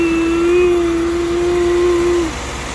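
Engine cooling fan on a Chevy Tahoe roaring as a loud, steady whirring drone with a strong sustained tone that cuts off and falls to a quieter background hum near the end.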